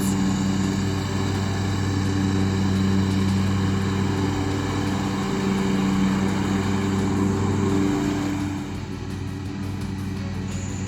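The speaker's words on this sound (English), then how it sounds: "This is a zero-turn lawnmower." A zero-turn riding lawnmower engine drones steadily up close, a loud constant hum that dips slightly near the end.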